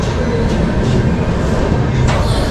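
A train stands at the Kasganj station platform, filling the air with a loud, unbroken rumble and hiss of engine and platform noise throughout.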